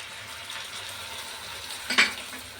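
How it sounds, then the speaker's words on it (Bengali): Tomato paste sizzles in a pan for egg curry, a steady frying hiss with a soft stirring scrape and a brief sharper crackle near the end. "এবার আমি আস্তে আস্তে এক এক করে সব বাটা এবং মশলাগুলো দেব। প্রথমে টমেটো বাটা দিলাম।"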